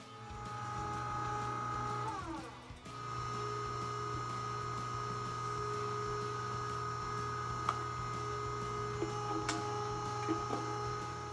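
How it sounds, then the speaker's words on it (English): Steady motorized whir of a meat grinder working pork butt for sausage through a 3/8 inch plate, a continuous hum with a brief pitch dip and a few small clicks and ticks. "we're going to be using a two-stage grinding process, starting with a 3/8 inch plate"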